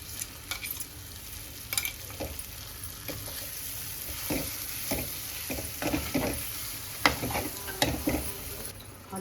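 Bitter gourd being stir-fried with leftover black masala in a pan, a steady close sizzle broken by repeated scraping stirs and light clinks of the spatula, no voices.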